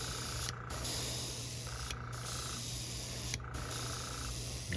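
An airbrush at turned-down pressure sprays thin hot pink paint onto a topwater popper fishing lure, with three short hissing bursts over a steady low compressor hum.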